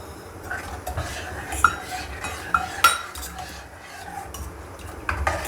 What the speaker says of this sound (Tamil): இங்கே பாருங்கள், புளி ஊற்ற போகிறேன். கரைச்சி வச்சுருக்க புளியை